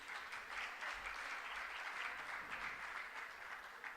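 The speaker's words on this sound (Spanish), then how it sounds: "Vamos a recibirlo con un fuerte aplauso." An audience at a panel on national and international political and economic affairs applauds to welcome a panelist, with a steady, fairly faint wash of clapping that holds for the whole stretch.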